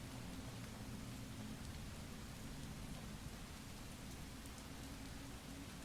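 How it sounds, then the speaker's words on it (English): Steady, faint rain hisses continuously in the video game Fallout 4, a dense even patter with a low rumbling undertone and no voices. "Why is it raining all the frickin' time now?"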